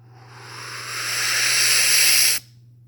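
A voice imitates the sound of exploding head syndrome, giving a single loud, steady hiss that swells over about two seconds and then cuts off abruptly, with no other sound around it.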